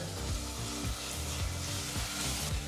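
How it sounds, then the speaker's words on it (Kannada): Ginger garlic paste sizzles in hot oil in a pan for veg aloo biryani, a steady close frying hiss broken by rhythmic scraping strokes of a spoon stirring it, no talking. "ಒಂದು ಟೇಬಲ್ ಸ್ಪೂನಷ್ಟು ಶುಂಠಿ ಬೆಳ್ಳುಳ್ಳಿ ಪೇಸ್ಟನ್ನು ಹಾಕಿ ಒಂದು ಮೂವತ್ತು ಸೆಕೆಂಡ್ಗಳ ಕಾಲ ಬೆರೆಸಿ ಬಿಸಿ ಮಾಡ್ಕೋಬೇಕಾಗತ್ತೆ"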